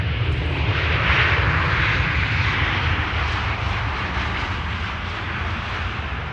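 An airliner arrives on the Polderbaan runway at Amsterdam Schiphol with a broad, steady engine roar and rushing noise, loud and sustained throughout without pause.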